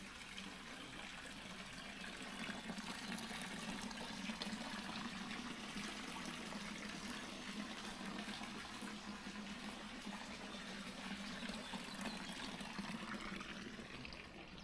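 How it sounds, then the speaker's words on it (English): Water streams steadily from an old fountain into a restored stone village wash house in Saignon, Provence, a constant splashing trickle that holds at an even level throughout, close by and with no one talking. "The wash house is supplied by an old fountain."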